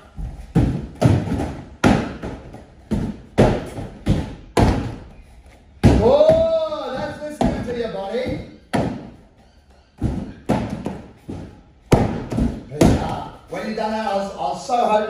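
Martial arts kicks landing during sparring rounds at a red belt grading, repeated sharp thuds in quick bursts, close and loud, mixed with voices talking.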